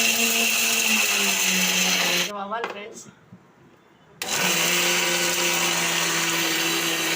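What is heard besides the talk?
mixer grinder grinding roasted lentils, garlic, chilli into powder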